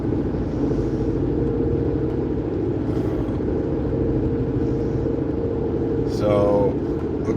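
A steady, loud low rumble of a car engine and tyre noise on the road while driving, filling the whole stretch without a break.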